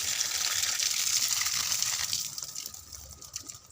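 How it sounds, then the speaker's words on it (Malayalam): Water drained off from a container while live food for guppies is prepared: a steady, close gushing pour that weakens and breaks into trickles over the last second, with no voices. "അത് നമുക്ക് വെള്ളം ഒന്ന് കളയാം കേട്ടോ"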